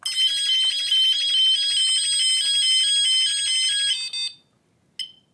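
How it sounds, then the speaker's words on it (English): A loud, piercing electronic burglar alarm siren, a Dexaplan CA 606 system triggered by its tamper switch, blares continuously for about four seconds, then cuts off, followed by one brief final chirp. "And the alarm activated, so the tamper-proof system worked perfectly fine."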